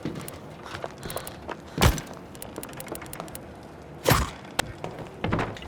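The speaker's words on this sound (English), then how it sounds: "I just knifed him in the back" Knife attack on a soldier in This War of Mine: two heavy thuds land about two seconds apart, each followed by a short burst of sharp clatter, with softer scuffs and small knocks in between.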